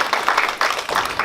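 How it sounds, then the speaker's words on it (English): A student audience at a campus talk at CSUDH claps loudly and close by, coming in quick uneven surges over a brief moment. "Can we have another round of applause?"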